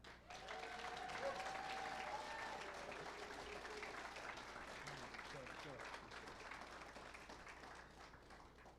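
Sustained audience applause fills an evening university pitch competition hall, a dense, steady clapping wash lasting throughout with a voice faintly carrying over it.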